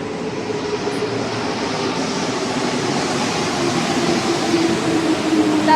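A metro train, NS 16 or NS 04 stock, rumbles past at El Bosque station with a steady, loud broadband roar that holds for the whole stretch and swells slightly toward the end, with no talk over it.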